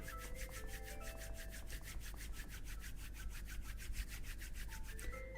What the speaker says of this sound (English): To get rid of this, you just need to move your palms, rub them together